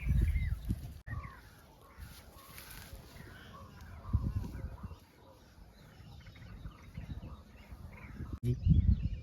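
Faint calls from a myna bird come in scattered chirps near a pigeon loft setup, mixed with bursts of rustling and handling noise close by.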